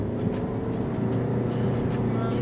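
A Volkswagen Tiguan engine revs steadily under acceleration in sport mode, a close, continuous drone with a low rumble and a faint higher whine, heard from inside the cabin with no talk.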